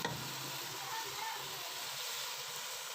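Ghee hisses and sizzles steadily as it hits fried meat in a hot pan, a dense close crackle that carries on without a break and with no talk over it.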